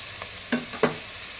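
Ingredients with mint and coriander leaves being sautéed in a pan for coconut milk rice; a soft sizzle under a few quick scrapes of a spoon stirring, brief and close.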